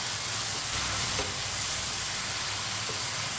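Okra, potatoes and tomatoes cooking together in a pan, a steady close sizzle and crackle of frying that runs evenly throughout with no talking.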